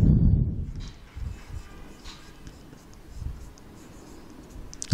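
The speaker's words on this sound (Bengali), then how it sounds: "যদি আমরা এইভাবে লিখি একবারে" Chalk or marker scratching across a classroom board during a chemistry lesson on oxidation and reduction, a few short rubbing strokes after a louder opening bump, fairly close with faint room noise.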